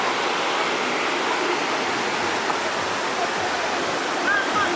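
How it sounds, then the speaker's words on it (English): Benta River Falls in Westmoreland, a steady, full-bodied roar of falling and rushing river water, close and loud throughout with no pauses. "There are falls over there."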